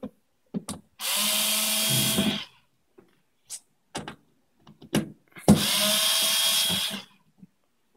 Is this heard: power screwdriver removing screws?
yes